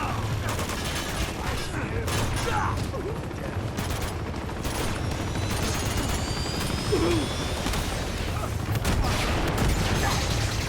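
Helicopter rotor thrumming steadily in Uncharted 2: Among Thieves over dense bursts of gunfire and busy mechanical noise throughout.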